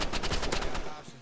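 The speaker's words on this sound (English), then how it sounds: "I got the revolver and auto shoot now" Revolver shots fire on auto-shoot in the video game Rivals, a fast run of sharp, loud shots over about a second, close and clear, before they stop.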